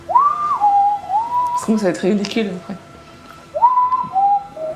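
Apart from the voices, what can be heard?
person whistling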